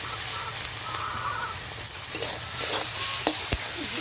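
Drained taro leaves go into a hot pan and are stirred, giving a steady close sizzle with scattered utensil scrapes and clinks and a sharper knock near the end, with no talking.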